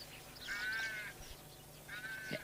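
A rook caws twice in a British garden, a hoarse call at mid distance, with a pause between the two cries against quiet background.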